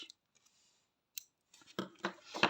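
Scissors snip through crochet yarn drawn from the ball while making an amigurumi elephant trunk, a few sharp close clicks and rustles near the end after a quiet pause.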